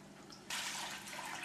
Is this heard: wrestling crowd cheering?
no